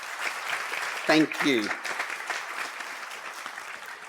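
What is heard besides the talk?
audience applause at a farewell gathering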